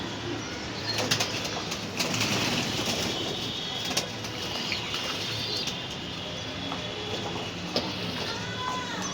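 Racing pigeons splash and flutter in bathing water, with repeated bursts of wing flapping over steady splashing and soft cooing in the background.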